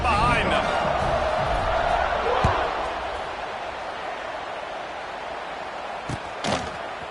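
A football stadium crowd before kickoff keeps up a steady broad roar that eases off slightly, with a few thuds near the end.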